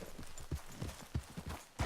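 Horse hooves clip-clop in Red Dead Redemption 2, a quiet, uneven run of soft thudding steps spread across a couple of seconds, with faint game ambience underneath.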